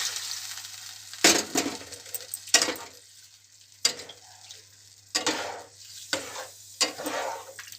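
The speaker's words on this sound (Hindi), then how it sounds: "एबे सिझा परिबा को एथिरे ढाली देबा।" Boiled vegetables for a sour Odia amula pariba khata tip into a hot pan, then several bursts of loud sizzling and scraping stirs come at uneven intervals, with quieter frying hiss between them and no talking.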